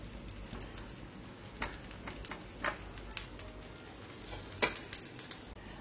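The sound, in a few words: food sizzling on a griddle with ghee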